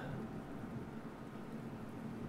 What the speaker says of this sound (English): whoa it's raining what the hell is that